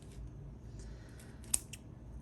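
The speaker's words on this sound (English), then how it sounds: "I think these scissors have seen better days." A single crisp snip of worn scissors cutting yarn while making a pom pom, close and fairly quiet over a low room hum.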